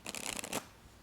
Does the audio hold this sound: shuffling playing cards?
yes